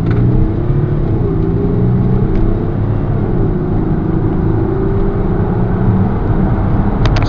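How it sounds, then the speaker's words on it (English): A 2007 Audi Q7 SE quattro 3.0 TDI accelerates hard from 0 to 60 in sport mode, a loud, steady interior engine and road drone with a slowly rising pitch throughout. "0 to 60 test, this time in sport mode."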